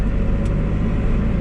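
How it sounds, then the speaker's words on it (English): A truck engine, now running normally again after a fuel filter problem on a road trip through Turkey, rumbles at a steady low idle, loud and close, with no talking over it. "Sounds like the normal truck now."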